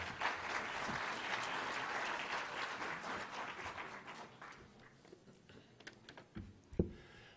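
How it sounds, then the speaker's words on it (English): Audience applause for Honorary Chairman Ban Ki-moon at a formal gathering: a broad wash of clapping from a sizable crowd that swells at first, then thins out into scattered claps before fading. "Please give him a big applause"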